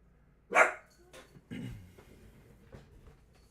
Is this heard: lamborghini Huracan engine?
no